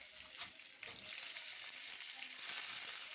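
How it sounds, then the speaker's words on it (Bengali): Sliced bitter gourd frying in hot mustard oil with bay leaves and five-spice, a steady close sizzle with a few brief crackles and stirring clicks, no talking. "2 থেকে 3 মিনিট আমি তেলের মধ্যে উচ্ছেটাকে ভেজে নেব।"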